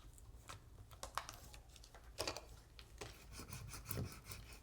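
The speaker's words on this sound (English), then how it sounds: "Burnish that down using my Cricut scraper." A Cricut scraper rubs and burnishes vinyl onto acetate card stock in a series of short, close, raspy scraping strokes, some louder than others, with no talking.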